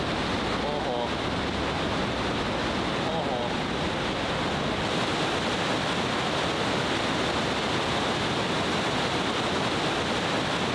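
Loud, steady roar of rushing river rapids in Padjelanta fills the whole stretch, a dense broadband rumble with no breaks, close and continuous.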